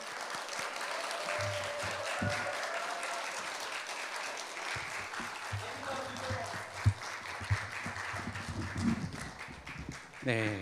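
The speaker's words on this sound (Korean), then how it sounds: "우리 박수로 환영해 줄까요?" Church congregation at a Friday night prayer meeting claps to welcome an evangelist to the front, a steady wash of applause with some voices mixed in, closing with a brief louder flourish.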